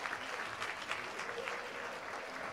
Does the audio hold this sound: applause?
yes